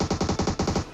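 Rapid automatic gunfire in PUBG Mobile, about nine sharp shots in one second in an even, fast rhythm, fairly close and alone with no voices.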